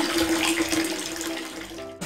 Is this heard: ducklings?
no